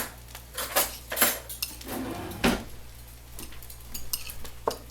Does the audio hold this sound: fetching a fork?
yes